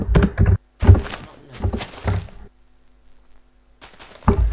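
Heavy keystrokes on a computer keyboard during a game session: bursts of dull, close thunks in clusters separated by short pauses, with no talk over them.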